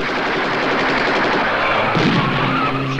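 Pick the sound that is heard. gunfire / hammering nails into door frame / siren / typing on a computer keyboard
gunfire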